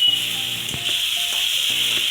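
Egg curry masala sizzles and fries steadily in a pan while being stirred, a continuous close hiss with occasional scraping and knocking of the spatula against the pan.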